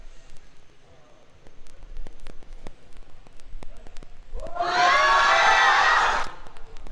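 A powerlifting meet crowd erupts into loud cheering and shouting for about two seconds near the end, after quieter murmuring with scattered clicks and thumps.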